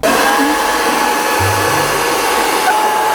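A hair dryer blows steadily and loudly at close range, its whirring airflow running unbroken throughout with a slight shift in tone near the end.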